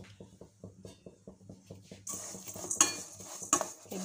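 Dry vermicelli is stirred in a pan with no oil or ghee, a spoon scraping in a quick regular rhythm, then brighter metallic clinks and rustling as the stirring grows busier.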